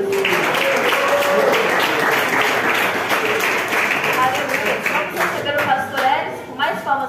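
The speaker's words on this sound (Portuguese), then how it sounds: "Mais palmas para Jesus." A church congregation claps and applauds together during a Sunday service, a dense, sustained patter of many hands that thins out toward the end as a voice begins speaking over it.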